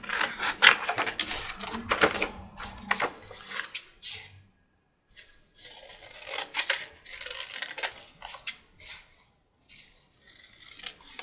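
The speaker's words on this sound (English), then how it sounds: "I'm just going to cut one of these just with my scissors" Repeated crisp snips and rasping cuts of scissors through paper, close up, in bursts separated by short pauses.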